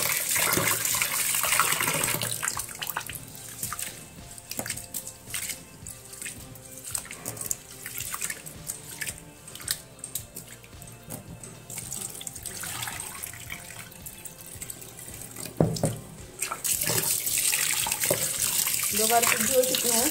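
Water runs steadily from a tap into a sink while rice is swished and rinsed, with clinking and splashing throughout; someone speaks briefly near the end.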